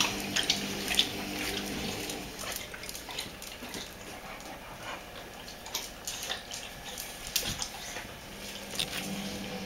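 Water runs from a household tap as someone fills a glass to drink, a steady splashing stream with small clicks and knocks nearby, no one speaking.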